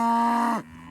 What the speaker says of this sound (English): You can hear the cows and sheep behind me.